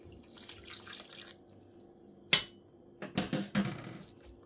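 Stale bread being soaked with water for Algerian sfiria croquettes, heard as a few wet drips and splashes with soft handling noises, scattered and close over quiet background.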